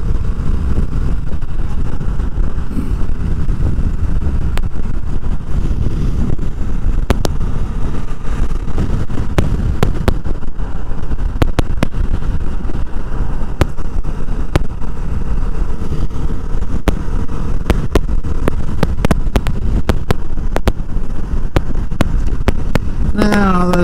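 A Kawasaki Vulcan S cruiser motorcycle riding on a motorway at around 100 km/h, with a continuous loud roar of engine and wind buffeting close to the mic and no break throughout.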